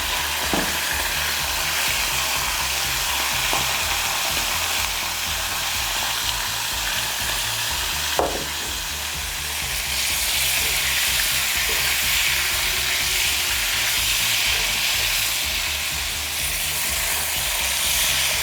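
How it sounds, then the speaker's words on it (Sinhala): Dried fish (karawala) fries in hot oil with a dense, constant sizzle and crackle close by, and a few faint clinks of stirring without any talk. "මේ විදිහට පොඩ්ඩක් බැදෙනකම් බැද ගන්න ඕනේ"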